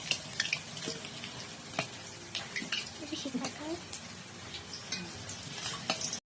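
Potatoes fry in a pan over a wood-fired stove as mutton is being cooked, a faint, soft sizzle broken by light stirring clicks, heard quietly beneath someone talking.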